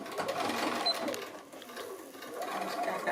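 Sewing machine stitching a fabric seam for a sitting robin Christmas project, a steady close mechanical whir with a brief dip in speed midway, running throughout.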